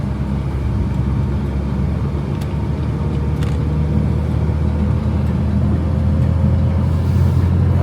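A car cruises along a road in high gear, heard from inside the cabin as a steady, loud low engine and road rumble that holds evenly throughout, with no voices.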